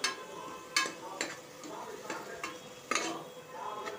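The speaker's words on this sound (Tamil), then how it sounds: "சின்ன வெங்காயத்தோட பச்சை வாசனை போகிறவரை நல்லா வதக்கிக்கலாம்." Ground shallot paste sautéing in a pan for chicken curry, with a low sizzle under intermittent sharp spatula scrapes and taps spaced a second or so apart.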